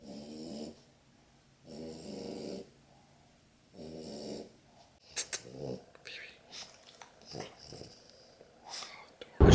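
A French Bulldog snores and snorts in three long rhythmic wheezing breaths, then gives a run of shorter sharp snuffles and snorts, close and fairly loud.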